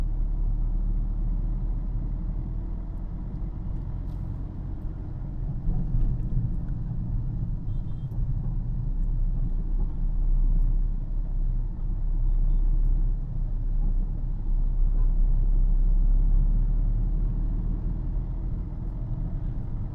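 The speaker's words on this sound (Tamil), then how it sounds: "சேம் ஸ்பீட்லேயே நான் ஆக்சிலேட்டர் கொடுத்து போகிறேன்." Steady low engine rumble of a car driving on a road, accelerating at the same pace, continuous and fairly close with no talk over it.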